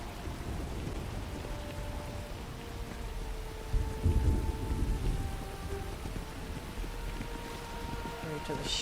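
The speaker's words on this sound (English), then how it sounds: "Oh, it's raining." Rain falls steadily at a spaceport in the video game Starfield, with a low rumble of thunder swelling near the middle of the storm before the rain carries on alone.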